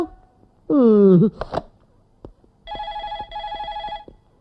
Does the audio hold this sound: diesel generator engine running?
no